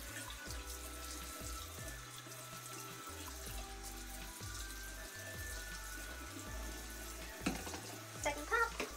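Running tap water at a bathroom sink while someone rinses their face after an oil cleanse, a steady close splashing stream with small irregular splashes and a few louder bursts near the end.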